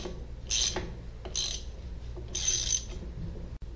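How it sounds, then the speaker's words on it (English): Ratchet wrench loosening and backing out the starter bolts on a Mercruiser marine engine, with three bursts of bright clicking ratchet action separated by short pauses, close and fairly loud over a low background hum. "so I gotta take the starter off first"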